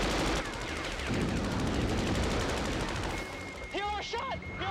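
Rapid machine-gun bursts from fighter jets in the 1986 Top Gun final dogfight over a roaring engine background, dense and loud, followed by shouted radio voices.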